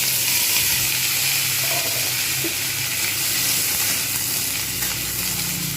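Potatoes sizzle and fry in hot oil for a drumstick and bean chorchori, a loud dense, unbroken crackle close by with no voices.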